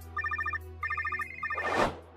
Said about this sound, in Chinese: 哎，你电话也响了。